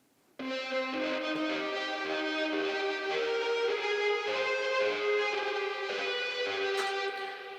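Synth lead crafted entirely from voice samples plays a sustained, harmonically rich melodic line with a buzzy, slightly distorted tone, entering abruptly after a brief silence and holding steady and prominent throughout.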